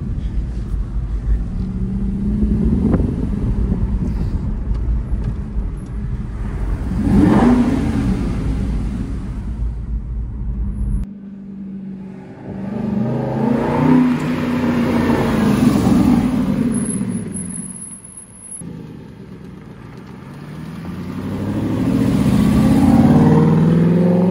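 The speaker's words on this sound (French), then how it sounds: "Là, on n'est même pas sur un V12, on est sur un V8." An Aston Martin V8 Vantage 4.7L AMR with a manual gearbox revs its V8 engine in loud, repeated bursts that rise and fall, with a deep rumble between the blips.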